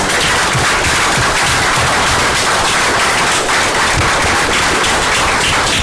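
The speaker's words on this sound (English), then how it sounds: "please join with me in giving a nice round of applause for them" A town council meeting audience claps loudly and continuously, a thick, sustained round of applause from many people filling the room without letup.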